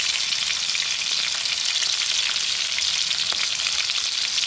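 Ingredients for an Andhra-style roti pachadi chutney frying in a pan, a loud continuous hiss of oil sizzling close up without break, with a faint clink partway through.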